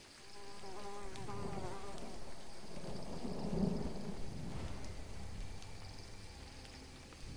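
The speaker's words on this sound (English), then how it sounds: "At least, the rain's easing up." Rain hisses steadily in the Telltale Jurassic Park video game, with a low rolling thunder rumble swelling in the middle and fading away, fairly quiet and with no speech over it.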